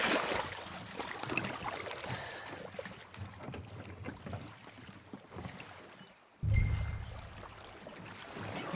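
A rowboat pushes off on a lake in a video game, with soft water lapping and oar splashes under light wind, then a louder low splashing thump near the end.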